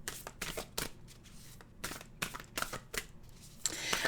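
Nature's Whisper oracle cards being shuffled, a run of crisp riffling bursts and soft card slaps in quick irregular rhythm, close and fairly loud with no talking.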